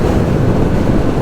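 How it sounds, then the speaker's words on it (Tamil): Heavy wind buffeting a clip-on lav microphone (Rode SmartLav) while riding a motorcycle at speed, a loud, dense, continuous roar with no talk. "காற்று செம்மையாக அடிக்குது."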